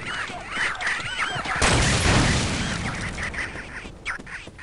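Grenade explosions in Half-Life (Brutal Half-Life beta, Surface Tension): a loud, broad blast erupts partway through and rolls on in a long noisy decay, with squawky game sounds before it.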